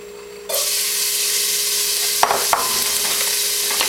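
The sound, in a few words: onions sautéing in olive oil in a preheated pot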